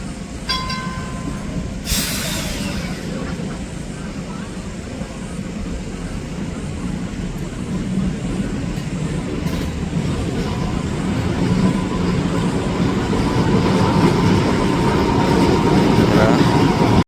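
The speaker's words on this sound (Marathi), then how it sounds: "बॅरिगेट्स खाली जातात आणि ती ट्रेन पास होते" A train rumbles past a level crossing with barriers lowered in Christchurch, New Zealand, its heavy roar growing louder, with a brief bell-like tone and a sharp squeal early on.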